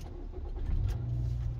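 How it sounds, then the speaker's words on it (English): A car engine turns over and catches during a driving road test, a low rumble rising in the middle and settling into a steady idle, fairly quiet and close, with no talk. "start the vehicle"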